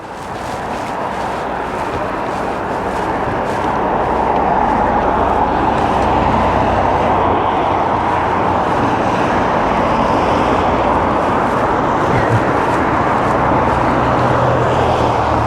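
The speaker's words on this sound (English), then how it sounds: "A lot of traffic on Promenade." Heavy traffic on a seaside promenade during lockdown: a continuous loud roar of passing cars that swells after the first few seconds and stays steady, with no voices.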